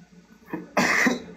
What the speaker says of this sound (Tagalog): Alam na, ubo siya.